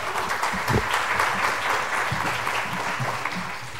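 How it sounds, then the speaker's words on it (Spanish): An audience at a talk for teachers welcomes the guest speaker with sustained applause, many hands clapping steadily and fairly close, with the sound tapering slightly toward the end. "Démosle la bienvenida a don Cristian con un aplauso."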